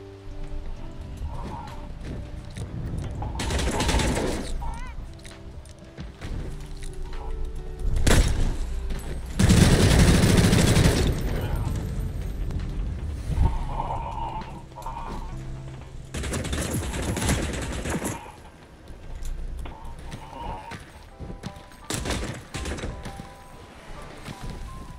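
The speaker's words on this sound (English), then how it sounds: "Somebody's shooting at us" Gunfire in the battle royale game Vampire: The Masquerade – Bloodhunt, with repeated bursts and volleys of shots rising and falling over about twenty-five seconds against a busy background of game noise.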